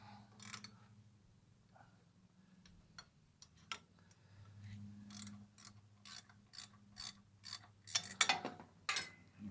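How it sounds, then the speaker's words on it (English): Ratcheting gear wrench working on a Cushman golf cart, bursts of quick clicking ratchet strokes that grow louder and faster toward the end, close by over a low steady hum. "Got the old gear wrenches out."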